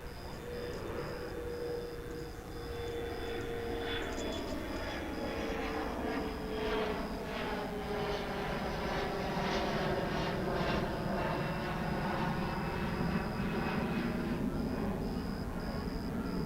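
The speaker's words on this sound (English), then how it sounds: "American Airlines Flight 1102 to El Paso in Airbus A321 is going to be getting the pole position as far as taking off goes" An American Airlines Airbus A321 bound for El Paso takes off at Dallas Fort Worth Airport at night, a steady, distant jet roar that swells slightly and holds for a long stretch with no talk.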